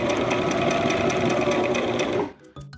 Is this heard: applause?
no